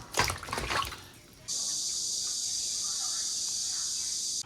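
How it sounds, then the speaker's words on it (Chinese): Blanched lamb trotters rinsed in water: after a brief clatter at the start, a steady rushing stream of water runs close by, filling the rest of the clip. "水焯差不多了，捞出来洗一下。"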